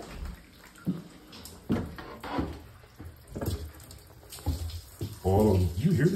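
Water leaking and pouring down indoors near electrical cords, a steady broadband rush with splashing that swells louder toward the end, while someone talks over it.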